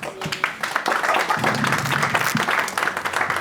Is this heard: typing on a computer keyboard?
no